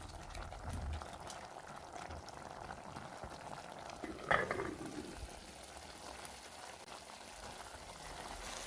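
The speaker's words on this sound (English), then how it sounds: "close the pot and let it come to a boil" Spaghetti boiling in a covered pot on the stove, a steady low bubbling hiss throughout with one brief louder clatter midway.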